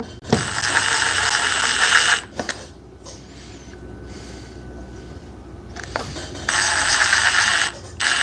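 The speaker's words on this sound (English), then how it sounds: "So I will just be using the Milwaukee and the Dewalt to set the screws." Milwaukee and DeWalt cordless impact drivers drive screws in two loud bursts of rapid ratcheting hammering, close by, with a quiet pause and small clicks between them.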